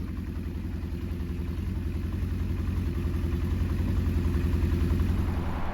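A Honda CB550 motorcycle engine runs steadily after its leaking carburetors were repaired, a close, even, low idle with a fine rhythmic throb and slight mechanical clatter, with no voices.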